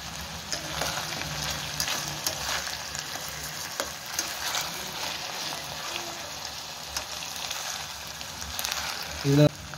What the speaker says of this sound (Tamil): ஃப்ளேமு கொஞ்ச நேரம் இது நல்லா சாட்டே ஆகட்டும்